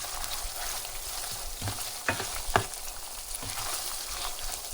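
Ground beef fries in a pan with a steady, dense sizzle, joined by a couple of brief scraping knocks as a utensil stirs it.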